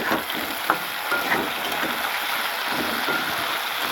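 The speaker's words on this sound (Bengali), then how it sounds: "ভেজে তুলে নিলাম" Winter vegetables and potatoes fry in a pan, a steady broadband sizzle with a few soft stirring knocks, close and continuous throughout.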